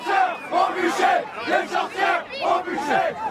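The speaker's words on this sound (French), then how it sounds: "les agités qui braillent là dans vos oreilles, je vous le donne en mille, c'est la Manif pour tous" Manif pour tous protesters shout in rhythmic, chant-like bursts, a dense crowd of voices rising and falling in a steady beat, loud and close throughout.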